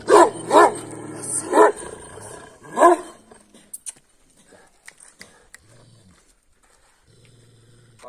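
A dog barks four times in deep, loud woofs, then falls quiet apart from a few faint clicks and low hum.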